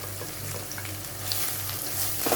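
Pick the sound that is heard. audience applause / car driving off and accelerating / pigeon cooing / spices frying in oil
spices frying in oil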